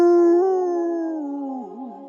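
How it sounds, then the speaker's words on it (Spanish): A direwolf howls as an audiobook sound effect, one long sustained tonal howl that slowly falls in pitch and wavers at the end, loud and alone. "Y Viento Gris echó la cabeza hacia atrás y aulló."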